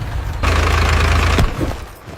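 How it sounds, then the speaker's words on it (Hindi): A tractor engine starts and runs in a short, loud burst of low, rumbling throb for about a second, then cuts off into quieter background noise. "पानी से ट्रैक्टर चालू हो गया।"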